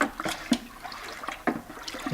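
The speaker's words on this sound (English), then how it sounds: "again aerating the water and honey mix, getting it, make sure it's all blended together" Water and honey being stirred and aerated for mead, a sloshing, splashing churn with irregular pulses of agitation, close and fairly loud, no talking.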